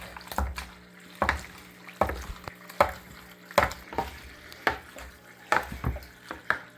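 Fettuccine Alfredo with butter and Parmesan being tossed in a pan, giving repeated soft scraping, stirring and light sizzling bursts at a steady rhythm, close by, with no talking.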